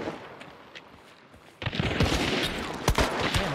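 In the video game Hunt Showdown, a quiet lull breaks into close, loud gunfire, with several sharp shots cracking over a continuing rumble of fire.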